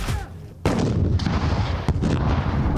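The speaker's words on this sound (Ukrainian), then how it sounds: "Гранатометник відпрацьовує РПГ по імітованих ворожих позиціях." An RPG grenade launcher fires a sharp, loud blast that opens a dense rumbling roar, with a second sharp crack cutting through about a second later; heavy, close, and sustained, at a military training exercise.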